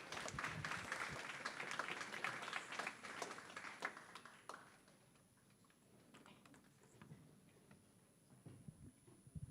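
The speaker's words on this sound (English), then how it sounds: "Please give a round of applause" An audience at a developer conference applauds to welcome a speaker, dense clapping for about four seconds that thins out into scattered claps and stays at a moderate distance.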